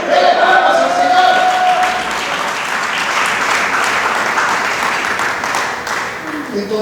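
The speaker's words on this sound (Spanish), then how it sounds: "Dele palmas al Señor." A church congregation breaks into sustained clapping during a Spanish-language sermon, a dense, loud burst of applause that starts strong, holds steady for several seconds and then thins slightly toward the end, with some voices mixed in.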